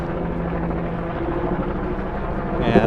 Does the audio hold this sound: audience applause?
no